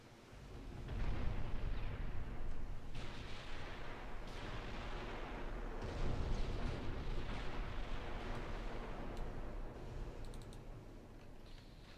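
Naval gunfire in a warship video game: sustained heavy booming from massed guns, rolling and overlapping throughout with no pauses, loud and dense with sharp reports breaking out at intervals.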